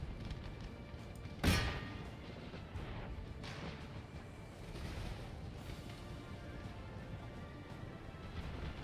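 One loud artillery boom from a cannon in Empire: Total War, followed by fainter distant rumbles and thuds over a constant battlefield din.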